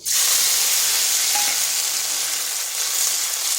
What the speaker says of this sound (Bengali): কালো জিরা দিলাম আর সামান্য ফোড়ন দিয়ে দিচ্ছি একটা শুকনো লঙ্কা